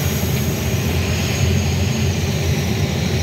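A passenger airplane landing at Kisumu airport, heard from inside the cabin as a loud, steady engine roar with broadband rushing noise that stays constant throughout.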